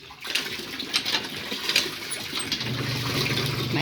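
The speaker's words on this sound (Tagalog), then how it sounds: "Tapos kuha tayo ng tubig." Water splashes and sloshes as it is scooped up with a dipper, then pours steadily for ducks to drink, close by, with a soft trickling stream building toward the end.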